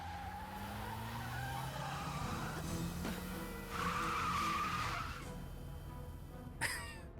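A sports car in the video game Broken Sword 3 skids past with a rising tire squeal and engine whine, passing by over a steady background hum, then ending in a sharp screech near the end.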